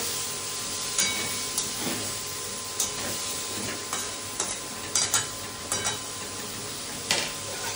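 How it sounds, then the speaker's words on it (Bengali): Potato and carrot pieces stir-fried with cumin powder and salt crackle in a loud, continuous sizzle, while a spoon scrapes and knocks against the pan every second or so. "এরপর আলু আর গাজরগুলো দিয়ে দিচ্ছি, একেবারে কষা হয়ে যাবে।"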